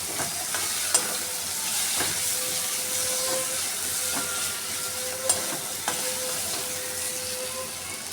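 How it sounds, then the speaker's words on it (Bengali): Masala with shahi garam masala fries in oil with a constant, fairly loud hiss, broken by a few scattered clinks of a spoon stirring against the pan. "এবার আমি শাহি গরম মশলাকে দিয়ে আরও একটু কষিয়ে নেব।"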